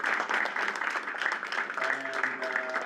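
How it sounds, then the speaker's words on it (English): Audience applause at a student government general meeting at the University of Maryland, a steady wash of clapping from a room of people, moderately loud, with faint talk underneath near the end. "So how about another round of applause for Ashley Bear?"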